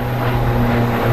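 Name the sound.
airplane at Phoenix Sky Harbor airport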